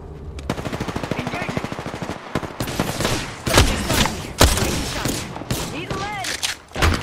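Rapid automatic gunfire from an R-301 rifle in the video game Apex Legends, loud bursts of rattling shots with sharp single cracks and explosions, with voice callouts mixed in.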